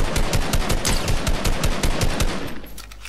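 Rapid automatic gunfire in an online shooter video game, a loud, continuous burst of evenly spaced shots lasting about three seconds before trailing off.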